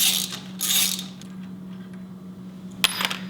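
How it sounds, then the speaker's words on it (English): A ratchet with a 10mm socket loosening a brake caliper bolt on a Suzuki V-Strom motorcycle: short bursts of ratcheting clicks close by, separated by a quieter pause over a low steady hum. "using a 10mm socket, we are going to remove this bolt right here, the caliper bolt. We're going to loosen it and completely remove it"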